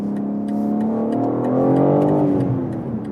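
A 2024 BMW M3 Touring accelerates hard on the Autobahn, its engine note climbing steadily through a loud, sustained rev from inside the car, with no talk over it.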